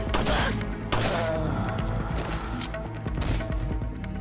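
Rapid gunfire from Resident Evil 4: Separate Ways, with dense bursts of shots that blend into a continuous loud fusillade across the whole stretch and a fresh volley near the one-second mark.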